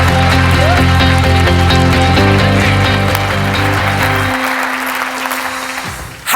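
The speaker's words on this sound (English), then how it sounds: "a big warm round of applause for Roger Seip" An audience applauds a speaker being introduced at a 2019 event, with loud, dense clapping under music that tapers off over several seconds.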